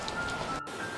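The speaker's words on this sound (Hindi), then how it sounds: "गांव की कच्ची पगडंडियों पर हल्की हल्की बारिश की बूंदें गिर रही थी।" Light rain falls on unpaved village footpaths on a dark, cloudy evening, making a steady, soft patter with no voices.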